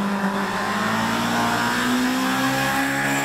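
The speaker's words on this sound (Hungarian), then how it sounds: "Ennek egy picit szolidabb a hangja ennek az autónak, ne, talán ez nem forog annyit, mint az előző" A rally car's engine drones at high revs as it passes on a stage of the Ózd-Salgó Rallye, a loud, sustained, steady note with a slight rise in pitch.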